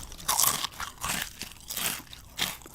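Potato chips crunch loudly between teeth in a few bursts of close, crisp chewing with short pauses in between, followed by quieter mastication, with no talking.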